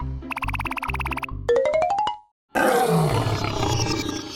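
A wolf roars in a cartoon hunting scene, with tonal game-style jingles and rising notes first, a brief silence, then a loud, rough roar that sustains to the end.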